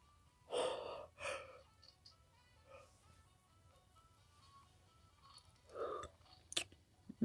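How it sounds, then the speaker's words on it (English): Several breathy, drawn-out yawns come close to the microphone from a player during a Battle Cats session. Faint game sounds and small clicks fill the pauses between them. "I'm so sorry for yawning repeatedly."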